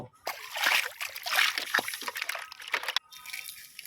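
Water splashing and sloshing as large Sundarbans koi fish are rinsed in a container and the dirty water is poured away, a close, uneven run of splatters ending abruptly, with a quieter trickle after.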